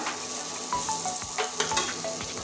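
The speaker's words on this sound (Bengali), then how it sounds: "এখানে আছে ভেজে রাখা আলু এই আলুটা এবার দিয়ে দিচ্ছি এবার সুন্দর করে আর একটু কষতে থাকবো" Spice paste for a Bengali-style egg curry with potatoes frying in oil in a pan, giving a steady close sizzle with occasional scraping stirs and no talking.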